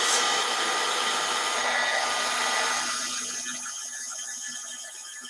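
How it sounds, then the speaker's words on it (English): Heat gun blowing hot air to melt white embossing powder on a card, a loud steady whooshing hum that fades and thins toward the end, with no talking. "And then we'll heat set that to melt it. Get the gun nice and hot."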